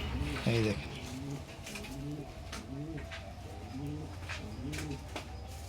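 A Mili racer pigeon coos close by in a repeated rolling pattern, several soft throaty phrases in a row over a quiet background.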